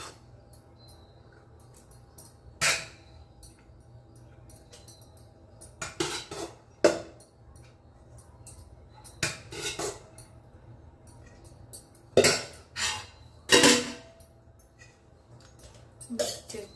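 Spoon scraping and clinking against a cooking pot while tomato rice is stirred together, in irregular bursts of metallic clatter with quieter pauses between, close by.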